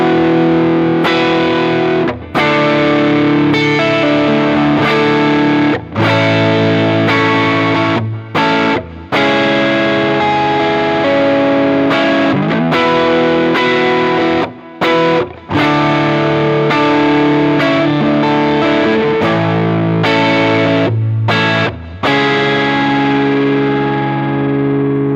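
Electric guitar through a Vemuram Jan Ray overdrive pedal with the drive turned fully up, a dense, loud stretch of driven chords and riffs with brief pauses between phrases, no voices.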